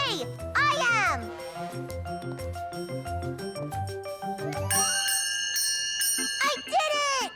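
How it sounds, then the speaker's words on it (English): In a Caillou cartoon, a bell is rung with bright, ringing, jingling tones that stand out near the end, amid lively music and children's voices talking. "I'm going to ring the bell first."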